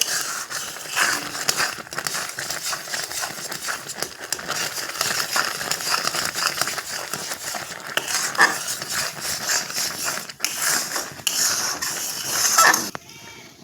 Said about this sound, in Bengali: আর এখন আমি অনবরত খুব ঘন ঘন এভাবে নাড়াচাড়া করতে থাকবো